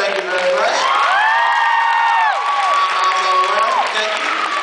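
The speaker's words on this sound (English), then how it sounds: "Give both of them a round of applause." Students at a middle school assembly cheer and clap for two jersey winners, a loud, sustained crowd noise full of high whoops and children's shouts sweeping up and down, holding steady throughout.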